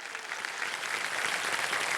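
A studio audience at a televised game show applauds steadily for a police sub-inspector, a dense, even wash of clapping that holds for a couple of seconds without speech.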